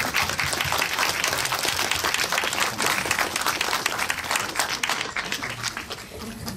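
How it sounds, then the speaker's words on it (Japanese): Audience at a film screening stage greeting, loud sustained applause from a full room, many hands clapping densely and steadily, easing slightly near the end with no voices. "どうぞ拍手でお迎えください"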